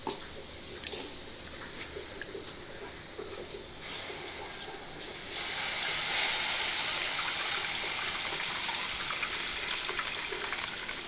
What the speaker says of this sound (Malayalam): വെള്ളത്തിലിട്ടിരിക്കുന്ന പുളി നമുക്ക് പിഴിഞ്ഞൊഴിച്ച് കൊടുക്കാം.